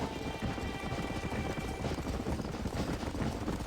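Horses gallop across Old West terrain in Red Dead Redemption, a fast, dense clatter of hoofbeats that continues without a break and stays fairly close, with no voices.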